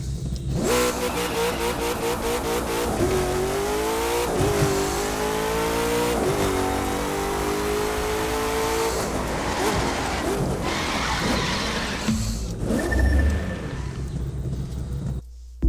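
Dodge Charger in touring car spec driving in The Crew 2, its engine note rising through several upshifts with steady revving and occasional tire squeal, loud and continuous with no talk.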